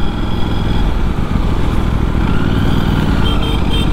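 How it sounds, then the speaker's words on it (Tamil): Engine and exhaust of an Aprilia RS 457 motorcycle while riding, a steady loud rumbling drone with constant wind noise and no break throughout. "எக்ஸாஸ்டோட சவுண்டு வாவ்னு இருக்குது."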